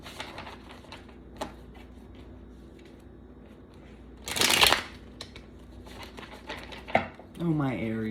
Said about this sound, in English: Let's pull some tarot for you on this spread.